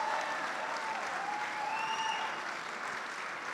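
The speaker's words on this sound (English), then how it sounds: "Let's give them a round of applause" Audience applause at a charity gala, a steady, fairly distant roar of clapping that runs through the whole stretch and eases slightly toward the end.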